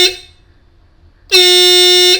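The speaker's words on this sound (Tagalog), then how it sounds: "It's a low tone horn." A short fading tone, a brief pause, then a loud, steady low-pitched blast from a Hella low-tone electric horn fitted to an electric scooter, held for about a second.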